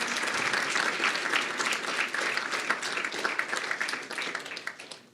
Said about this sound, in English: we'll do clapping first.